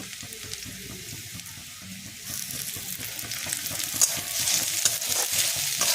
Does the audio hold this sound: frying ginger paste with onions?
yes